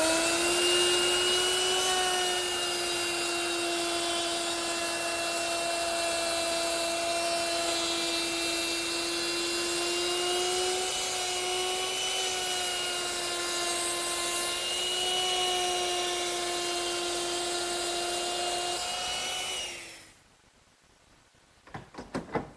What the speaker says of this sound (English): I'm going to use a 3/8 inch radius rounding over bit, and I'm going to hit all the sharp corners